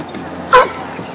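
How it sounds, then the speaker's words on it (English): Coonhound, a strike and tree dog, lets out a single short yelp-like bark with a whimpering edge at close range, followed by quiet background. "He's a good strike dog, tree dog."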